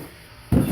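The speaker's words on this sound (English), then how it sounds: "that was the trash can drifting across the floor because I bumped into it by accident" A trash can bumped by accident and sliding across an indoor floor, a short low scraping rumble that starts abruptly after a quiet moment and carries on to the end, close and fairly loud.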